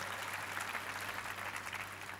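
A crowd at a public lecture bursts into sustained applause, a dense, steady wash of clapping from many hands that holds an even level throughout, with no voices over it.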